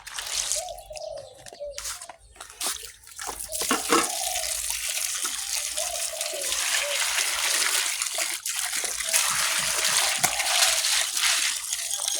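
Sprouted tamarind seeds washed under running tap water, with a steady close stream of flowing water, splashing and sloshing, and a few handling knocks. After a choppier start it settles into continuous running water, with no talking.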